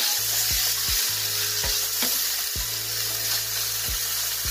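Seeded tomato dropped into a hot pan for miso sinigang with lapu-lapu, a constant close sizzle broken by a few sharp stirring knocks and clatters.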